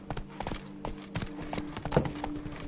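Roach, the horse in The Witcher 3 video game, gallops with rapid, rhythmic hoof clip-clops over a low background, fairly quiet and steady, with no talk.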